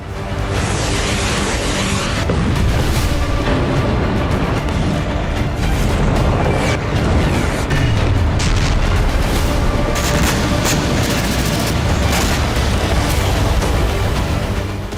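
A large non-nuclear bomb blast, dense roaring booms and rumbling that stay loud and continuous, with cracking bursts layered over the low rumble.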